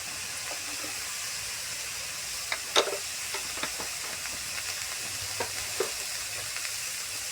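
Vegetables frying in a pan as salt and turmeric powder are stirred in, a continuous soft sizzle with scattered scraping clicks of the spoon, one sharper knock near the middle.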